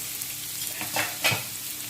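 Vegetables for fried rice hitting a hot pan sizzle steadily, with a brief louder burst of frying as more are stirred in near the end.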